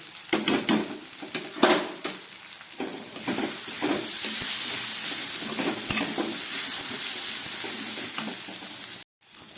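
Green jackfruit curry with spices stir-fried in a pan, a steady close sizzle with scraping stirs and a few utensil knocks, running alone without talk until a brief cut near the end.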